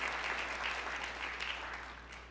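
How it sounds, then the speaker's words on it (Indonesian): A church congregation applauds during a sermon, a dense wash of clapping that rolls on evenly and then gradually thins and fades toward the end. "Berikan tepuk tangan yang meriah buat Tuhan."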